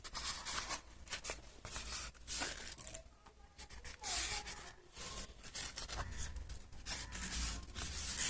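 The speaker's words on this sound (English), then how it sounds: "Now I think we're ready to cut it out." Scissors cut out a paper Ghostface Halloween mask, producing close, steady scraping and crinkling of paper with rubbing and snipping textures throughout and no voices.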